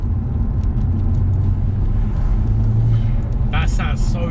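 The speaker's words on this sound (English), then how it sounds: "That sounds so good. The blow off valve" BMW E82 135i, bolt-on modified, with a deep steady engine rumble running throughout, then a couple of sharp airy bursts near the end from the blow-off valve venting, close up inside or beside the car.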